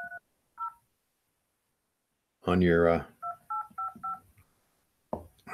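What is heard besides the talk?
telephone dialing tones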